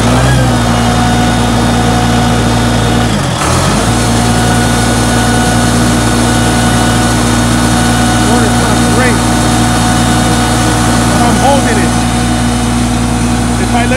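Engine of a machine on an auction lot running continuously, a loud steady mid-pitched drone with a brief dip partway through, while a switch is held open to keep it going.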